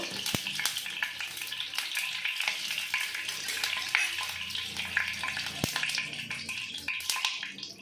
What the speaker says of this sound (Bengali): আমি এখন ডিমটা ভেজে নিচ্ছি